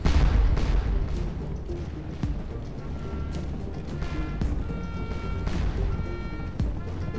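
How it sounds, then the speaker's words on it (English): Artillery fire in the video game Scourge of War: Waterloo, a Napoleonic battle setting, gives scattered sharp booms and cracks of cannon and musketry over a continuous battlefield rumble. "Artillery, king of the battlefield, man."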